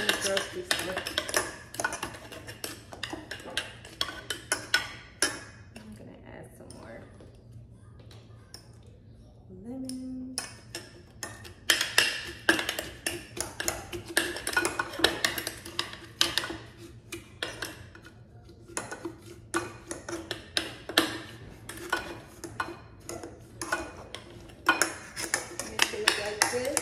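A spoon muddling lemons for homemade lemonade gives a run of clinking, tapping hits against the container. The taps are close and irregular, with a voice talking under and between them.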